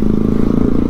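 A motorcycle engine revs hard in one short, loud, throbbing burst, used to chase monkeys away.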